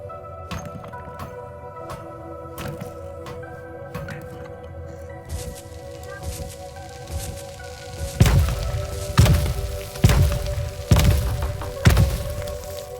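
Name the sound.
bombs blowing up blocks in video game Boundless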